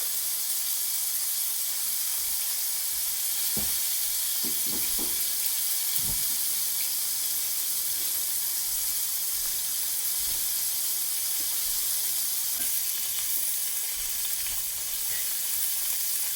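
Veal sears in a hot frying pan, giving a steady, close hiss and sizzle throughout with a few soft clatters and stirring knocks near the middle, and no voices.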